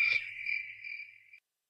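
Crickets chirp just outside an open window in one steady, shrill, close trill that holds for over a second before cutting off to silence.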